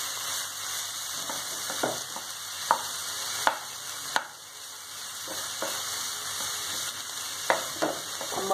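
Carrots and mashed potato being stirred in a pan while breakfast is made, with a soft sizzle throughout and sharp intermittent spatula knocks and scrapes against the pan, close up.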